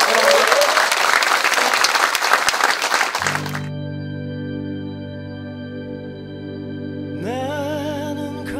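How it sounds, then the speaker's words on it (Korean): A crowd at a party members' rally in Jeonju bursts into dense, loud applause for about three seconds, then it stops and sustained music takes over, with a singing voice entering near the end. "다시 한번 이광철 도당위원장님에게 힘찬 박수 부탁드리겠습니다"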